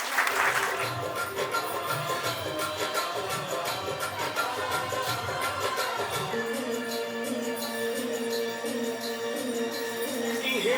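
A crowd claps steadily at a 28th Foundation Day celebration, welcoming a dance act on stage; the dense broadband applause holds for the whole stretch, with music entering underneath about halfway through.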